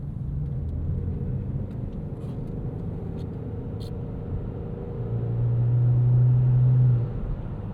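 A 2013 Ford Fusion SE's 1.6L Ecoboost engine in S mode, heard from inside the cabin as a low, steady rumble that swells briefly near the end as it downshifts, fairly quiet overall.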